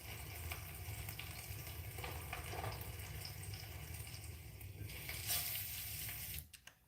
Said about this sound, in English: you still got a bit of sizzle because when the lid is closed, you don't get as much sizzle